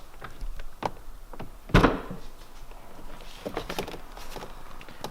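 A latch clicks and an Acura NSX car door thunks open with a solid knock, surrounded by scattered light clicks and handling noises.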